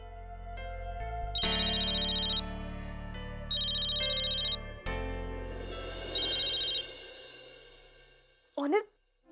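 Telephone ringtone in a Hindi TV drama scene: three electronic ring bursts of about a second each, separated by short pauses, set against a sustained musical background score with a brief sharp sound at the end.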